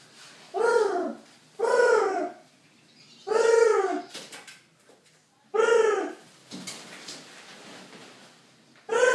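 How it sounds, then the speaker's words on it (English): A bird trapped inside a house calls in four loud, harmonic, cooing bursts spaced about a second apart, each followed by quieter rustling in an otherwise still room. "Extract this bird from my house."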